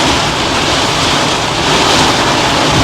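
Heavy rainstorm lashing down at Lake Garda, a loud dense roar of rain and gusting wind buffeting the microphone, continuous and close with no clear voices.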